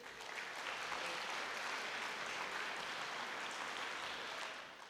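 An audience at an ocean exploration open house gives students a sustained round of applause, a dense and even wash of clapping that lasts throughout and tapers slightly at the end.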